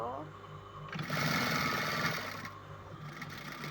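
A sewing machine stitches the upper part of a garment, a close, steady mechanical hum that swells louder through the middle, with voices talking faintly underneath.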